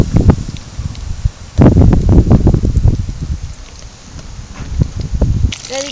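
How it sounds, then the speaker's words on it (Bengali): Strong wind gusts outdoors at a home kitchen, loud rushing bursts of rustling noise that surge and fade in waves, with voices talking between and over the gusts. "বাবা কত জোর হাওয়া দিচ্ছে গো"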